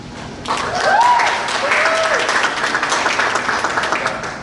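An audience at an evening political event claps steadily, a dense wash of applause starting abruptly and continuing for several seconds, with a faint whistle near the start.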